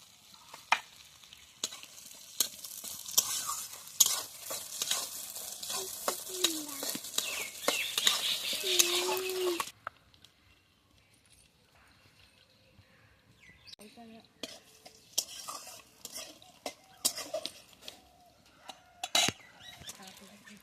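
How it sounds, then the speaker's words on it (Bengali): Dried red chilies and nigella seeds hit hot mustard oil left from frying fish, setting off a loud crackling sizzle for about ten seconds. It then drops to near quiet with scattered faint clinks and pops. "ফোড়নে দেব শুকনো লঙ্কা, কালো জিরে।"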